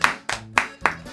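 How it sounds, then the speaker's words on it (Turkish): Four sharp hand claps ring out in an even rhythm, close and loud, each about a quarter second apart. "Alkışla babanı alkışla çabuk."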